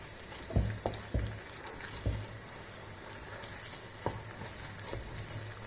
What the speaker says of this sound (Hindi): हमारी जो दाल है वो बिल्कुल ना चिपके, इसलिए इसको हमको चलाते रहना पड़ेगा।